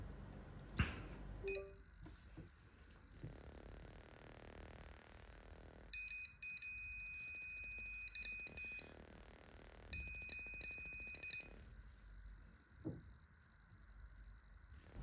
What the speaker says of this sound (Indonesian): ketika ada objek yang mendekat, buzzer akan berbunyi